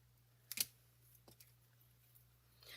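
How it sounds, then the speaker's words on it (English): A couple of sharp snips from scissors cutting paper, close and quick, followed by a faint third cut amid quiet room hum. "And then I'm going to use my scissors."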